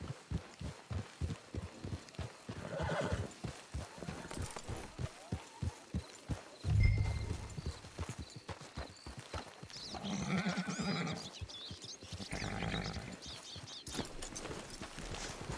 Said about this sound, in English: Hitch your horse.